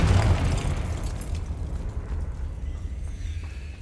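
A Confringo fire spell explodes in Hogwarts Legacy, a single loud booming blast with a deep rumbling tail that slowly decays over a few seconds, close and alone.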